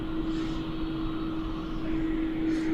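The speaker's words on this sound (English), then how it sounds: "Shanghai Airlines 738 just entering 16 for takeoff to Shanghai" Steady jet engine roar from a Shanghai Airlines Boeing 737-800 entering runway 16 for takeoff at Melbourne Airport, heard from a distance as a continuous drone with a constant tone running throughout.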